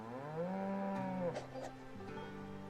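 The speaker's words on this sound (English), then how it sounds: "Cows." Cows give long, drawn-out moos with deep, steady tones, faint and somewhat distant, with no talking over them.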